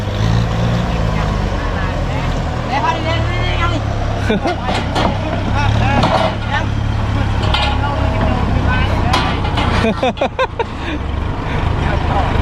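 A steady low Kubota M88 tractor engine drone runs throughout, loud and close, with people talking over it.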